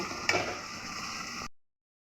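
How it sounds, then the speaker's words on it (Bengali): Chopped onions fry in a generous amount of hot oil in a pan, giving a soft, brief sizzle that stops abruptly after about a second and a half. "পেঁয়াজগুলো ভেজে নিব"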